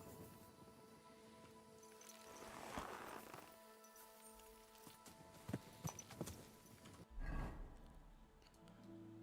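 Horse hooves clip-clop in Kingdom Come: Deliverance 2, with soft steps and a louder burst of hoofbeats late, set against steady game ambience and musical tones; no whinny stands out clearly.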